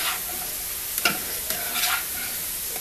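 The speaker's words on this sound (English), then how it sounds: "We're gonna quickly stir fry this" Pickled zucchini stir-fried in a pan for a spicy Korean side dish sizzles steadily and close up, broken by a few quick spatula strokes that stir the pieces.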